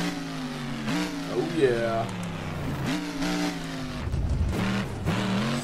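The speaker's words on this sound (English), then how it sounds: "Fire the engine back up." The Max D monster truck in BeamNG.drive starts and revs its engine. The pitch climbs and falls in repeated surges, up close, while someone talks over it.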